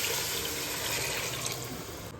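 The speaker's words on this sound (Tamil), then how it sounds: "இது கூட நம்ம தேவையான அளவு தண்ணி சேர்த்துக்கலாம்." Water is poured into a pot of drumstick biryani during cooking, a steady loud gushing pour heard up close for a couple of seconds.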